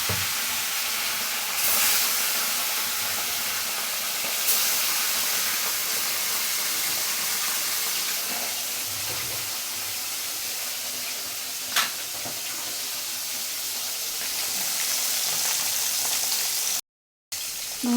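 Small fish rubbed with salt, turmeric and a little chili powder fry in hot oil, giving a steady broadband sizzle with soft crackles and one sharp pop near the middle, close by and with no talk.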